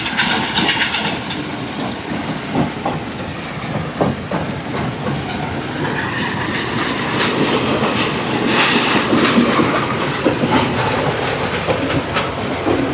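A second-class train near Hikkaduwa, Sri Lanka, rolls along with a loud, steady rumble and rhythmic clattering of wheels on the rails, heard up close without any talking.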